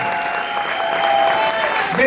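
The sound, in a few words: loud standing applause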